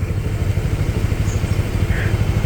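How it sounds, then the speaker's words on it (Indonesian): A motorcycle engine idles close by with a steady, throbbing low rumble and a faint mechanical clatter that does not let up. "Motor gue masih nyala."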